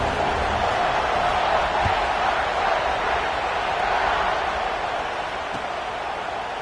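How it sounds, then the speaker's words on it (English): A football stadium crowd roars steadily just before kickoff, a dense, continuous wash of distant cheering that holds at an even level throughout with no clear voice standing out. "this crowd now ready to get behind them."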